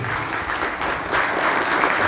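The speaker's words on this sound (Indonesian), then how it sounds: "Kita kasih tepuk tangan buat Pak Ketua KPU" A crowd at a GMNI alumni conference in Semarang applauds the chairman of the local election commission, a thick, steady roar of clapping with no pause or speech over it.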